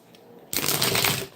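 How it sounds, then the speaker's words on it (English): Tarot cards being shuffled, a short burst of crisp, close riffling that starts abruptly after a brief quiet moment and runs as a quick fluttering patter until the end. "Shuffle a card."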